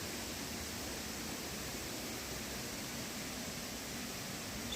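Hadim Yerköprü Waterfall roaring as a steady, dense broadband rush of falling water, constant and loud with no breaks or voices.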